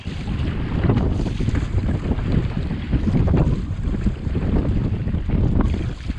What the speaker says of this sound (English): We are getting a bit of a headwind that seems to be picking up.